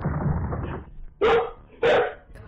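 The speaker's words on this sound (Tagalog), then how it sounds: "Yung talagang tahol po siya na mang-a-alert po talaga, parang pinapalabas po talaga sila." Dog in Cebu barking in alarm shortly before an earthquake: two loud, sharp barks about half a second apart, preceded by rumbling background noise.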